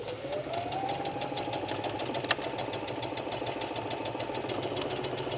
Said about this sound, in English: I'm just going to run it through the machine and stitch a seam to show you how that works